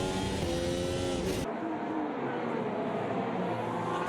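Race car engine in Automobilista 2 roaring under throttle with the tail wagging, a loud continuous harmonic drone that drops in tone partway through as the car steadies, with a dense rumble throughout.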